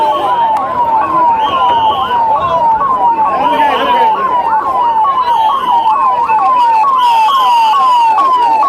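Ambulance and emergency sirens wail continuously during a mock emergency drill, a loud, steady cycling yelp repeating about every half second close by, with faint voices underneath.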